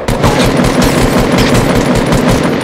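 Rapid, loud gunfire in Fortnite, a continuous burst of close shots over dense game noise, with no talking.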